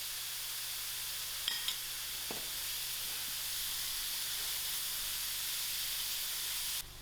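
Brown lentils (masoor dal) fry with masala and salt in a pot, giving a steady soft sizzle and hiss under faint, occasional stirring clinks, with no one talking.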